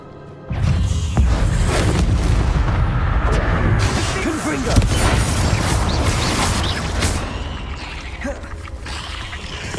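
Explosive blasts from the Bombarda spell in the video game Hogwarts Legacy, a sustained loud rumbling crash with debris and mechanical clatter, under faint game sound.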